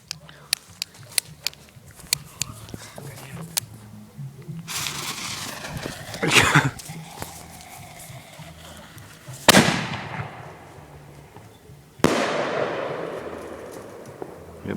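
New Year fireworks go off nearby: a string of sharp firecracker pops, then several louder booming bursts with crackling tails, while people talk in the background.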